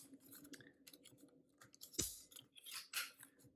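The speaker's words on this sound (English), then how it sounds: "Does make very satisfying clicking sounds, so it is kind of fun to transform" A Hasbro PulseCon exclusive Transformers Pit of Judgement figure being transformed into robot mode, giving quiet plastic clicks and snaps, with a sharper click near the middle and a couple more after it, alone with no talk.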